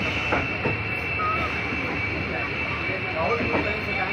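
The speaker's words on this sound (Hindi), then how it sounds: "ट्रेन का आगमन होता हुआ।" The Sitapur City–Kanpur passenger train pulls into platform 4 at Balamau Junction with a continuous broad rumble, faint wheel squeals and some background voices on the platform.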